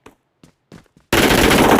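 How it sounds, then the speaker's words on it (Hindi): Sustained automatic gunfire from the BGMI video game blasts in loud and continuous after a few faint, short sounds at the start. "हबीबी को उसी के टीममेट ने गोलियां चला दी होती।"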